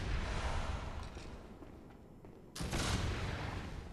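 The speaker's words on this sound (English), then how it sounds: "Good job trying to shoot through a wall at me." Gunfire in the Bloodborne video game, shot through a wall, heard as a dense, continuous burst of noise that swells again in a loud fresh volley partway through.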